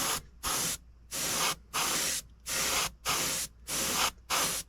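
Createx sealer sprays out in seven sharp, evenly spaced hissing bursts with short silent gaps between them, close and loud, with no talking.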